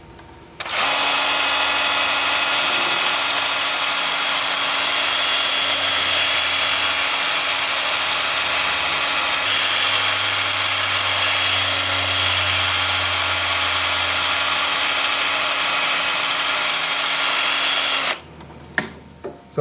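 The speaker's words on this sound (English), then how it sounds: "Starting at 150 grit, working up through 400." Sandpaper working a holly live-edge bowl on a wood lathe turning at 350 RPM, moving from coarse to fine grit: a loud, steady whirring hiss that runs unbroken for most of the stretch before cutting off near the end.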